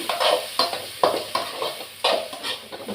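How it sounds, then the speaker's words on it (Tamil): Tomatoes sautéing in a pan for thakkali chutney: a continuous sizzle broken by a rhythmic series of stirring scrapes, about one every half second, close and clear with no talking. "தக்காளி நல்லா வதக்கிடுவோம்."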